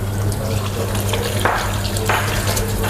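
Water poured over a V60 paper coffee filter to rinse it in a Vienna cafe, heard as a steady splashing, hissing stream with a couple of brief louder splashes, close and continuous.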